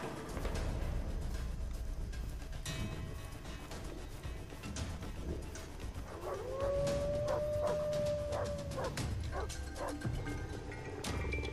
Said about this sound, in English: I think I found the dogs.